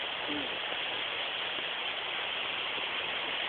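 Water flows loudly along a trek near Velha Varoti, Singapur, a steady broadband rush of a stream that stays even and close throughout with no pauses.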